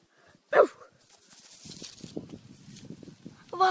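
A dog gives a sharp bark, then a softer stretch of low rustling and whimpering, and barks again at the end, fairly near and moderately loud.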